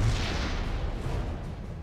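Siege tanks firing in StarCraft II, a dense, continuous barrage of booming artillery blasts layered into a steady roar with no pauses.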